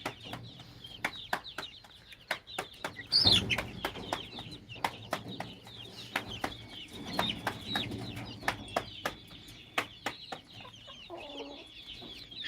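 Village free-range chickens on a farm cluck and peck in irregular bursts, close by and fairly loud, with a brief louder squawk partway through.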